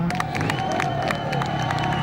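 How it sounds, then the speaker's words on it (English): Belgian crowd at a 500cc motocross Grand Prix in Namur cheering and applauding a new world champion, a dense, steady roar of clapping and shouts close by. "To the delight of the Belgian crowd here in Namur, they celebrate and applaud the new world champion"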